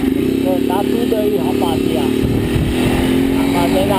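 A motorcycle engine runs steadily and loud throughout while riding, a constant close drone with a rough low rumble and faint voice-like sounds above it.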